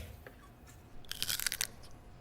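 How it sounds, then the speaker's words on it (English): A close, crisp crunch of someone biting into an apple, a short burst of crackling bites followed by quieter chewing in a calm room. "We ate our apples."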